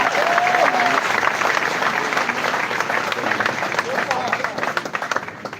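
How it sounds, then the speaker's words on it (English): A crowd applauds a senator at a live public event, with dense sustained clapping that tapers slightly toward the end, while a voice and some crowd murmur carry through underneath. "Can you clap for him?"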